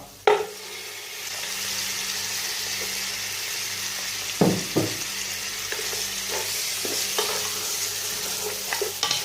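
Half a kilo of goat mutton from the leg stirred into lightly golden onions in a hot pot, with a steady close sizzle and intermittent scraping stirs throughout, no talking.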